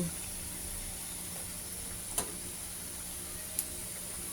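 Pork rind chicharon frying in oil, a faint steady hiss and sizzle with two brief sharp pops standing out.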